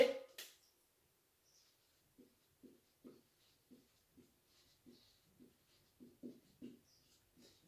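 Marker or chalk strokes on a board during a physics class make a quiet series of short scratchy taps in an uneven rhythm, close by, in an otherwise silent room.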